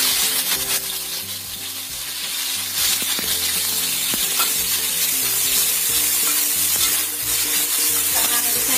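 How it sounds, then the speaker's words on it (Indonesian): Thinly sliced chicken fries in about three tablespoons of hot oil in a pan, a loud continuous sizzle with stirring scrapes and clinks throughout, no talking. "Kita goreng dulu ayamnya"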